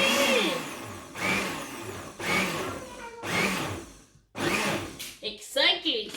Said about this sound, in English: So I'm just using the pause button of the blender.